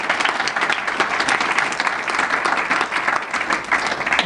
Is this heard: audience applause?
yes